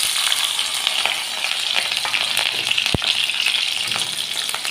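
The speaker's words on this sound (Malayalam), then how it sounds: "ഈ ഇഞ്ചിയും പച്ചമുളകെല്ലാം എണ്ണയിൽ ഇങ്ങനെ പൊരിയുമ്പം" Ginger, green chillies and garlic sizzle steadily in hot coconut oil, a close, continuous frying crackle with a few sharp pops and faint stirring scrapes.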